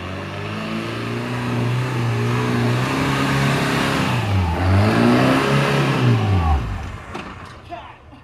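A car engine in fourth gear revs up strongly and holds loud, then its pitch dips and rises before the engine fades away at the end.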